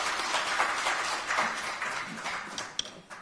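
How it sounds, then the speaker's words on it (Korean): Applause from the audience at a Korean policy forum welcoming the third presenter, a medical tourism and wellness professor: dense, steady clapping that carries on throughout with a few sharper claps near the end. "큰 박수로 모시겠습니다"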